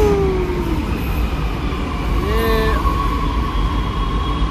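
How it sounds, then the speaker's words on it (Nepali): A Delhi metro train runs at a station, a continuous loud rumble with tonal whines sliding in pitch, heard from nearby without speech. "एउटा उतापट्टिको मेट्रो ट्रेन आयो"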